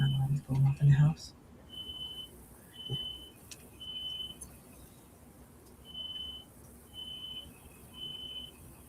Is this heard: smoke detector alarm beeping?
yes